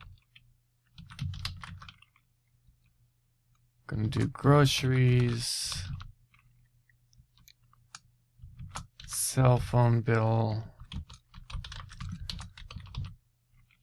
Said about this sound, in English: Now I'm just going to hit the down arrow on my keyboard instead of clicking.